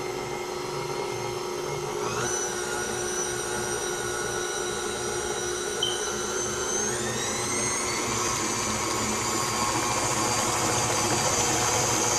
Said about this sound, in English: Mixer, KitchenAid mixer makes everything easy.